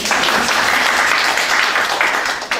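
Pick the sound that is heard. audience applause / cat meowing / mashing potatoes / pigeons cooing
audience applause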